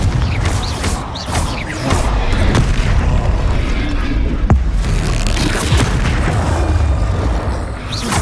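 Confringo fire spell blasting in the Hogwarts Legacy video game, loud booming explosions and crashing impacts repeating throughout amid dense game effects, with some voice underneath.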